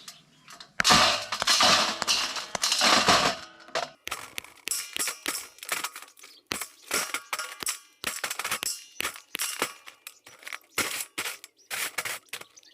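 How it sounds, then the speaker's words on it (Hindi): Thick clods of clay are broken up in a steel tray in a mountain village, a long scraping crunch followed by a series of sharp, close knocks and cracks with brief pauses between them. "ये मोटी डलियाँ हैं, ये भीगने में टाइम लगाएंगी तो इसलिए इनको तोड़ देते हैं।"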